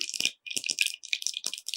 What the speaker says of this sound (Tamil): இது கடுகு வெடிக்க ஆரம்பிச்சிருச்சு அடுப்பை ஆஃப் பண்ணிடுறேன்